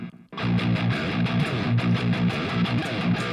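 A heavy, distorted electric guitar riff kicks in after a short silence, thick and loud with chugging repeated chords and drums driving underneath.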